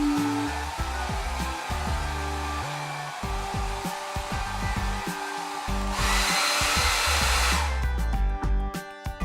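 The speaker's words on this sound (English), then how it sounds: "Take a dryer." A hair dryer blows steadily while drying a toy pet in pretend play. The whir is continuous and close, with plastic handling rattles and knocks over it, and the airflow grows louder and harsher near the end.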